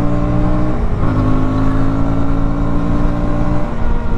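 A 2025 KTM Duke 160 motorcycle engine pulling in 4th gear on an open road, a loud, steady drone that climbs slightly in pitch, with wind rush and no talking.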